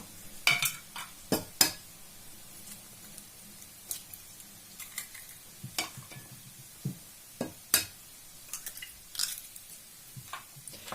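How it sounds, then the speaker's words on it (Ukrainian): Quick, irregular clinks and scrapes of a fork whisking eggs in a bowl, fairly quiet, with a faint sizzle in the background. "І збиваю їх вилочкою."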